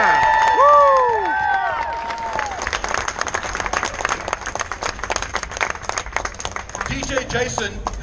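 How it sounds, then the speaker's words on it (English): Audience applause and cheering at a tamale eating championship, a dense spread of clapping from the crowd lasting throughout, with whoops and shouts early on and voices mixed in. "how about a round of applause for all of our..."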